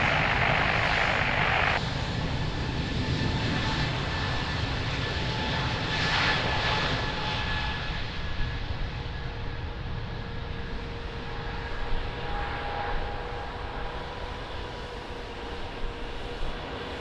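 An airliner takes off at Lisbon Airport, its jet engines making a loud, steady roar with a droning whine that holds through the whole clip, with a faint passing rumble but no talking.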